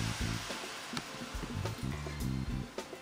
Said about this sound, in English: now I'm going to deglaze with some Pinot Grigio white wine